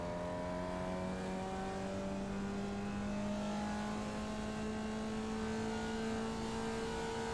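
A single-seater race car engine in a racing video game holds a steady, droning whine at constant loudness throughout, its pitch drifting slowly upward, with no voices.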